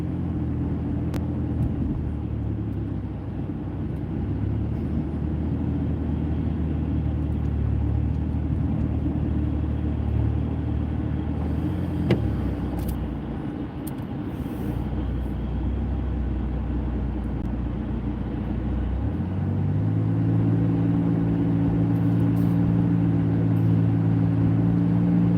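A car engine hums low and steady while driving at about 1500 RPM in bad weather, with road rumble throughout and the engine tone rising again toward the end.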